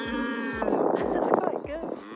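A person imitates a cow's moo outdoors among real cattle, a drawn-out voiced call lasting about two seconds, with low rhythmic thuds and other voices faintly around it.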